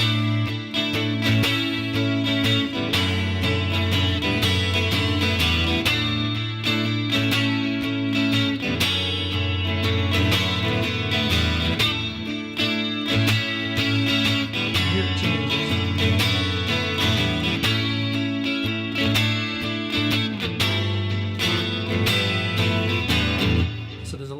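Electric or acoustic guitar strummed with a pick through the chorus of a song, full open-string chords ringing loud and steady with rhythmic accents throughout, no talking.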